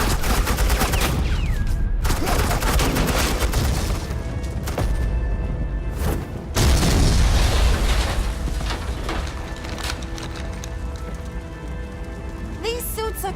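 Dense, continuous suppressing gunfire in the video game Batman: The Enemy Within, a loud crackling barrage of rapid shots that runs nearly the whole time, with a heavier burst midway.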